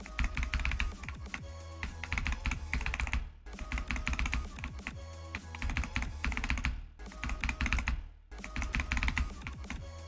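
Computer keyboard keys tapped rapidly while playing a rhythm game, dense continuous clacking in fast bursts with a few brief pauses, close and loud.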